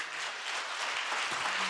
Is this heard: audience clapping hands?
yes